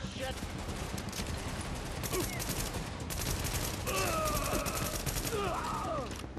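Bursts of shotgun and other gunfire crack through a tense firefight in the video game Tom Clancy's The Division, with repeated loud blasts over busy combat noise while someone talks over the action.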